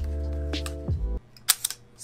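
A mechanical hum winds down, followed by a quick shutter release and a couple of sharp clicks close up from a medium format film camera firing at 1/8 second.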